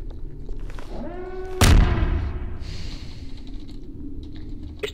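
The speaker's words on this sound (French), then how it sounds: "Explosion au niveau du char." Tank explosion in Garry's Mod, one sudden loud boom with a broad crashing burst that decays over about a second, preceded by a faint rising whistle amid quiet game ambience.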